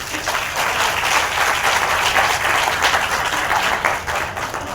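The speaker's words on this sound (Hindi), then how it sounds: "एक बार जोरदार ताली बजा।" Loud, dense applause from the audience at a Hindi poetry recital in Indore, Madhya Pradesh, many hands clapping steadily for several seconds, close and full.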